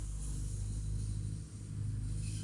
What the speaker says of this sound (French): j'ai été un peu distraite par le tracteur